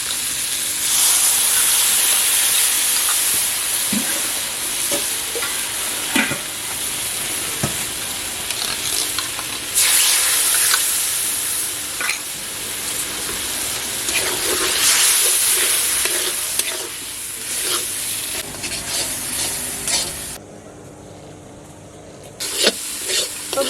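Soaked ground spices, cumin, coriander and dry chili powder, hitting hot oil in a pan while cooking, a loud continuous sizzle and hiss with stirring scrapes throughout, briefly quieter near the end.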